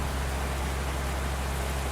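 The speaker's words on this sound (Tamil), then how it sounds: "இந்த மழை வேறு நல்லா பெய்யுது" Steady rain hiss in a bus driving video game, an even broadband wash of falling rain with a low engine-like rumble beneath and no talking.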